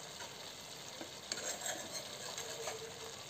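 Curry biryani cooking in a pan is stirred back and forth, a faint steady bubbling sizzle under soft scraping strokes, with a few small clinks near the middle.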